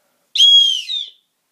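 A single short, loud, shrill whistle blast, close up and alone, lasting under a second.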